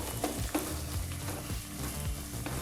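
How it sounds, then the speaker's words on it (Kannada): Onion sizzles in a pan with crushed ginger and garlic, steady frying hiss with soft stirring clicks and scrapes throughout, close and alone with no voices, for a hotel-style chana rice bath. "ಈ ರೀತಿ ಶುಂಠಿ ಬೆಳ್ಳುಳ್ಳಿನ ಸೇರಿಸಿ 1 ನಿಮಿಷಗಳ ಕಾಲ ಮಿಕ್ಸ್ ಮಾಡಿಕೊಂಡು ಫ್ರೈ ಮಾಡಿಕೊಂಡ್ರೆ ಸಾಕಾಗುತ್ತೆ"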